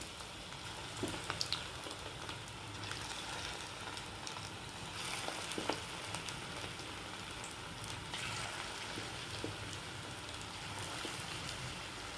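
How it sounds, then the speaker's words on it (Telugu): Chilli chicken fries in hot oil over a low flame, giving a steady, even sizzle throughout with a few faint crackles. Nobody talks. "చక్కగా ఎర్రగా వేయించుదాం"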